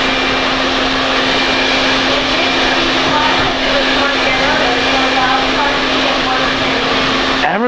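Hair dryer blowing on hair in a salon, a steady loud whir with a constant hum that runs unbroken until it cuts off near the end, close to the microphone.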